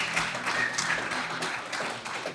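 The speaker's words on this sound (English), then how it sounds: "we just, owe him another round of applause for everything that he's done" A crowd at an evening reception claps steadily, a dense patter of applause at moderate distance, with no one speaking over it.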